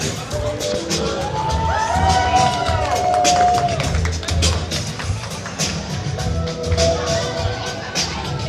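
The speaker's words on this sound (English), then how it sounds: "So if you would get those hands clapping again" Wedding guests at a sangeet clap and cheer loudly, with whoops and shouts rising and falling over a busy crowd and music, and people talking throughout.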